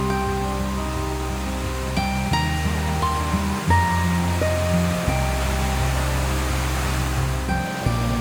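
The Balasan river beside a homestay near Darjeeling, with a tea garden on the other side, gives a steady rushing roar, heard under held musical tones.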